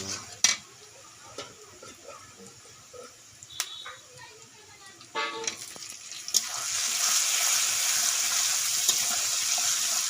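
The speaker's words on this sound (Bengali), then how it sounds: "সব উপকরণগুলোকে আবারও ভালো করে কষিয়ে নিচ্ছি।" Chicken masala with chopped tomato is stirred in a pot, with scattered clinks and scrapes of a spoon first, then a louder, steady sizzle of sautéing that builds and holds to the end.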